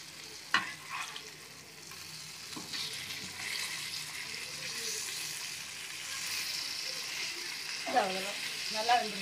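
Fish frying in a pan: a soft, steady sizzle and bubbling oil, fairly quiet, with a few clinks of turning the pieces and a voice talking briefly near the end.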